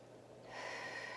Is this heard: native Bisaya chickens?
no